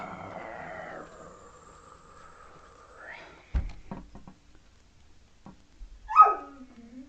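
A pet dog whimpers in a drawn-out whine, then gives a few sharp barks and yips spaced apart, close by in a quiet room with some knocking in between.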